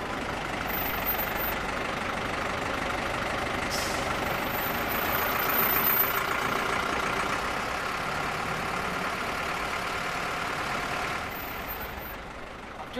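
A bus engine idles with a steady low rumble and broad hiss, a brief higher squeal partway through, easing slightly near the end.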